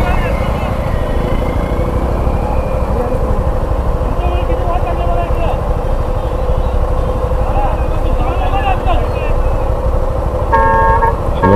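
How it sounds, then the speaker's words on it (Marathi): Dense traffic jam on the Mumbai–Goa highway near the Sangameshwar bridge works: a steady roar of idling and creeping vehicles, with scattered car horns and a cluster of sharp honks near the end, plus voices in the background. "पूर्ण ट्रॅफिक जाम झाला इथे"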